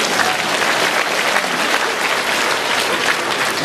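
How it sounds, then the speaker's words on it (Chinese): A large audience at a question-and-answer gathering in Penang, Malaysia bursts into loud, dense applause that sustains evenly throughout, with no speech over it. "鼓鼓掌让他下去"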